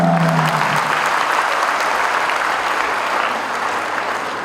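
Steady applause from a crowd, dense and even clapping that carries on throughout without pause.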